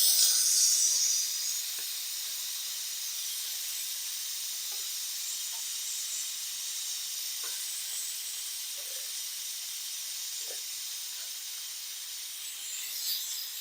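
Steady hiss of steam venting under pressure from an electric pressure cooker at a campground, loud at first then settling into a continuous rushing whoosh with faint clicks.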